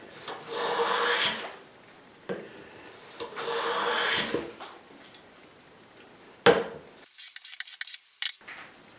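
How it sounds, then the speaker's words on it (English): A hand plane takes fine, wispy shavings from a wooden board, with several long rasping strokes separated by pauses, followed by a few quick, close scraping and knocking sounds. "it's obviously capable of taking a nice fine shaving."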